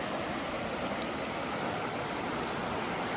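A cool mountain stream on the Appalachian Trail rushes in a steady, unbroken wash of water, close and even throughout.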